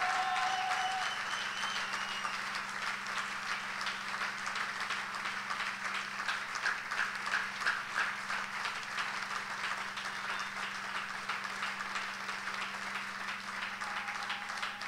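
A church congregation applauds God during a sermon, a steady, dense wash of clapping from many hands that holds evenly throughout, with a faint hum beneath.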